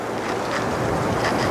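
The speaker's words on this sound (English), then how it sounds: "We got gusty ass winds today" Gusty outdoor wind blows steadily across the microphone as a dense, rushing roar that stays loud and unbroken throughout.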